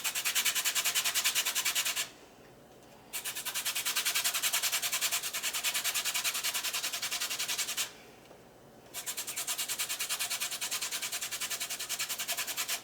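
Lemon being zested on a metal grater, a steady close scraping rasp in long continuous strokes with two brief pauses, no talking.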